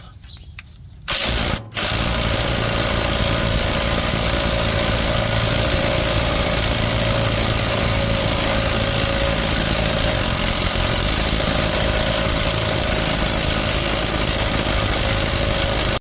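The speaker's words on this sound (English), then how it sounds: "Going to want an impact for this." An impact wrench loosens a front shock absorber bolt on a vehicle, a loud, close, sustained mechanical hammering whir running almost the whole time after a brief quiet start, with no talk.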